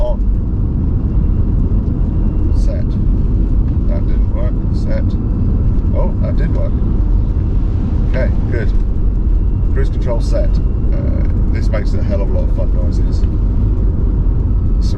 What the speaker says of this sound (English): proper electric car, whining and howling happening.